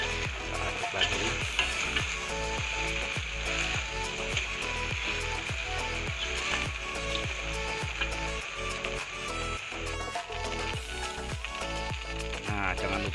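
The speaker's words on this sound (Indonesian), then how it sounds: "Kita aduk-aduk juga biar rasanya gurih" Milkfish noodles stir-fried in a pan with plenty of sweet soy sauce and fried shallots, giving a steady sizzle broken by rhythmic scraping and clacking strokes of a utensil.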